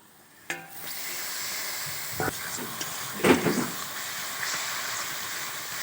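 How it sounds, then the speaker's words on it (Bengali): Spice paste for a Bengali fish curry sautéing in oil, a steady soft sizzle with a few stirring scrapes and clanks of the spoon against the pan, heard alone with no talk. "এই মশলাটা ভালো করে কষিয়ে নিতে হবে"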